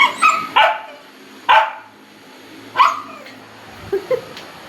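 A puppy barks and yips several times at close range, in short sharp bursts separated by quiet pauses, with a softer whimpering yip near the end.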